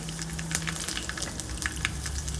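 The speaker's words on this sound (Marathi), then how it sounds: "त्यात आपण एक चमचा तेल घालूया एक चमचा मोहरी घालूया एक चमचा जिरे घालूया एक हिरवी मिरची घालूया" Oil heating in a hot pan with mustard seeds, cumin and a green chilli added, giving a soft steady sizzle with scattered small pops and crackles, close and moderately quiet, no talking.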